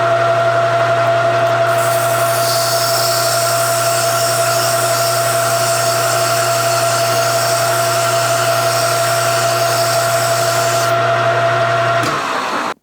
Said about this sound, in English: I'm going to sand that off because it's a lot easier if I do it now in the lathe